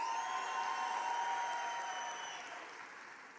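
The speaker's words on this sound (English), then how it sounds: "Give a round of applause." Steady applause from an audience at a ceremony where names are being called, dense and sustained, slowly fading toward the end.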